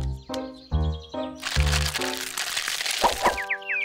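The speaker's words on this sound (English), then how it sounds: "It was the sound of the baby birds coming out of their eggs." Baby birds cracking and crunching out of their eggs in a tree nest in a children's cartoon, heard as a dense burst of crackling between bouncy musical notes, close and fairly loud.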